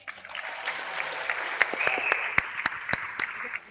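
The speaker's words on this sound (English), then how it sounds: "Give them a round of applause." An audience at an agency awards ceremony claps together, a dense round of applause that thins near the end into a few sharp, separate claps before stopping.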